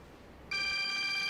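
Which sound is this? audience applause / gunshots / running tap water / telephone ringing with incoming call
telephone ringing with incoming call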